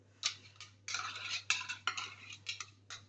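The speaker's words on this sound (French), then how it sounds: "On mélange le tout." Oat flour and melted Brie Delight 15% butter being stirred together in a bowl for a cheesecake base, with a series of close, uneven scraping and clinking strokes and no talking.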